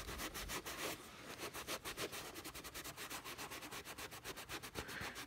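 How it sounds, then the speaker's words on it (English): A damp cloth rubs across a vintage cardboard toy box in quick, faint, close scrubbing strokes, with an uneven rhythm and brief pauses, and no talk. "I'm just gonna rub on there."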